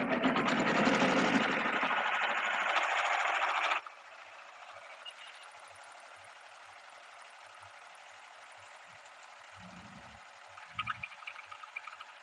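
A sewing machine runs steadily for nearly four seconds, stitching a double row along the edge of a piece of fabric, then stops, leaving quiet room tone with a few soft knocks and handling sounds.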